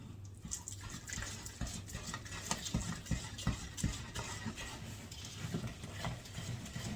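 Water pours and trickles steadily into strawberry brownie batter, a continuous close splashing wash with small drips and stirring noise throughout, no voices.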